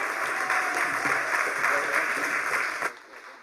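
An audience applauds at an Illinois Legal Aid Online event as the board chair is introduced: sustained, dense clapping that holds steady and then thins out sharply near the end.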